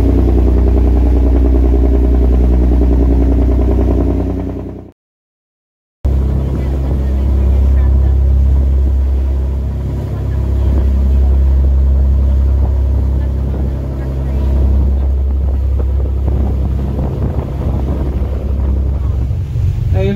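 A whale watching boat's engine runs steadily on the open water off California, a low constant drone mixed with wind buffeting the microphone, broken by a one-second dropout before resuming at the same level.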